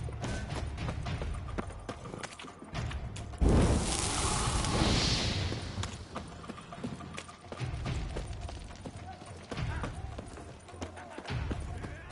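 Horses' hooves clip-clop steadily in the video game Witcher 3, mixed with a loud whooshing rush midway and voices talking over the action.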